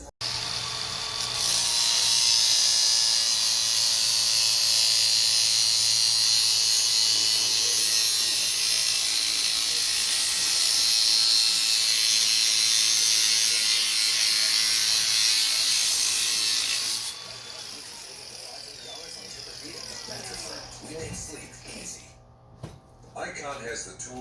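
A handheld power tool whines steadily for about sixteen seconds while trimming the corner of a hardtop car seat for a convertible Cadillac Eldorado, loud and close, then cuts off; a voice talks over and after it.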